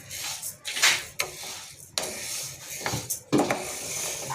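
Pearl millet (kambu) being stirred as it dry-roasts in a pan for homemade baby health-mix flour: quiet, irregular scrapes and rustles of grains against the pan, with a few sharper strokes, close and alone.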